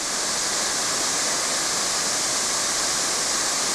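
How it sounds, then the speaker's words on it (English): A huge waterfall with a 2,000-foot vertical drop in a deep valley roars as a loud, steady, dense rush of water with no breaks and no voices over it. "Tremendous waterfall action."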